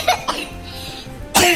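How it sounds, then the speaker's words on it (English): A person with a bad cough coughs sharply several times close to the microphone: two short harsh bursts, a pause, then a louder cough at the end. "I have an awful cough right now"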